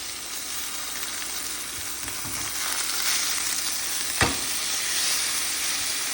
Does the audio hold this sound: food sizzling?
yes